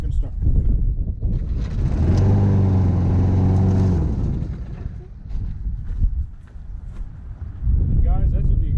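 A free Craftsman push mower's engine catches on the first pull from a cold start, roaring up loud and steady for about two seconds before dropping back; someone talks over it.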